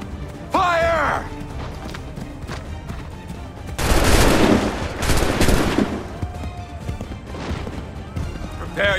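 A musket volley crashes out in Assassin's Creed 3, a loud, dense burst of overlapping shots lasting a couple of seconds and then tailing off, with shouted voices and horse sounds nearby.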